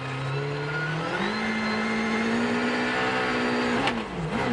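A Citroën DS3 rally car pulls away after hitting a snow wall on a Monte-Carlo Rally stage, its mid-pitched engine revving up through the gears, loud and close, with a brief dip and shift near the end.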